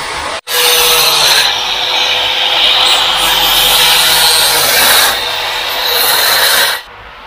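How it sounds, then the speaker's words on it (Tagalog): An angle grinder screams loudly and continuously in a motorcycle workshop during a supermoto build, starting abruptly, running steadily with slight shifts in pitch, then cutting off near the end. "Hindi tayo gaano marinig ng Silver Fam kasi ang ingay ng grinder"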